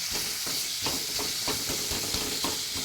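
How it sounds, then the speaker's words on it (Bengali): Fish curry ingredients sizzle in a hot pan while being stirred, a constant hiss of frying with regular scraping strokes roughly every third of a second, close and without voices. "একটুখানি আমি নেড়ে নিলাম"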